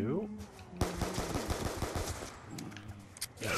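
Gunfire in the video game Call of Duty Black Ops II Zombies, heard as bursts of rapid automatic shots and single cracks, loud and close, with a voice talking over part of it.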